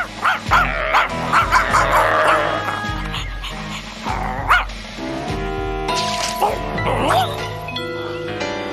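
A dog loose inside a bear cage barks, yips and whimpers excitedly amid a noisy crowd, with people talking and calling out throughout.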